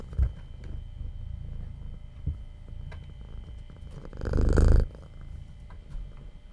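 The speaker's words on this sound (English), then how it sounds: "Are you purring very loud?" A pet cat purring close up, a low continuous rumbling throb that swells much louder near the end before easing off; no talking.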